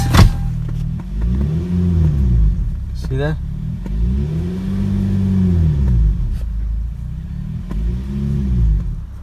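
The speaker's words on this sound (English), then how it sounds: "There's a lot of noise, exhaust noise." A car engine revs repeatedly in rising and falling surges, with a rough, rattling exhaust rumble from a leaking, rusty exhaust; someone speaks briefly over it.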